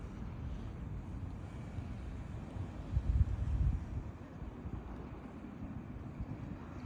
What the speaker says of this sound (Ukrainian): Дивимося, як працює катер.